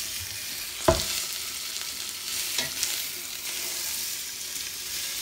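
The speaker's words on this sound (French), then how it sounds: "je le laisse revenir un petit peu sur les deux côtés" Meat for a festive roast lamb shoulder dish browning on both sides in a pan, giving a continuous close sizzle with one sharp clunk early and a few soft scrapes.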